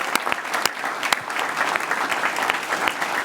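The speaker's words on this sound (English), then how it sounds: "how about a round of applause to all the coaches, the parents, and the administrators that commit so much to our youth" An audience at a championship breakfast bursts into a round of applause for coaches, parents and administrators, steady dense clapping filling the room with a few sharper claps standing out near the front.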